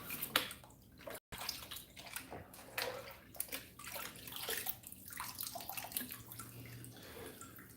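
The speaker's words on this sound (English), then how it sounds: "Get it all rinsed out of here." Water rinsing gravel and dirt out of a gold pan indoors, a steady splashing and sloshing wash that runs for several seconds with a brief break near the start, close and moderately loud.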